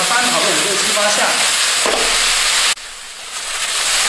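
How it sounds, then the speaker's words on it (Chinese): Green beans with sauce stir-fried in a wok give off a loud, steady sizzle and steamy hiss that drops off sharply for a moment, then swells back. A voice is briefly heard at the start. "料汁倒进去之后再给它翻炒个5、6、7、8下"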